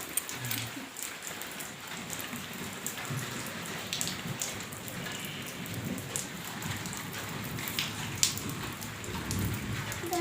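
Light rain falls steadily outdoors, a soft continuous patter with occasional louder drops, fairly faint and unbroken throughout.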